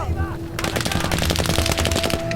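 Rapid automatic gunfire in the Battlefield V World War II campaign, a loud sustained burst of machine-gun fire with fast rhythmic shots and a steady tone underneath, starting half a second in after a quieter moment.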